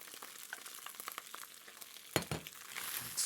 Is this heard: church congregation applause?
no